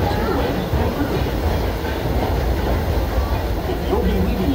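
Disneyland Railroad train pulled by the steam locomotive Ernest S. Marsh, heard from aboard an excursion car as a loud, steady rumble of wheels on rails, with faint rhythmic clacking.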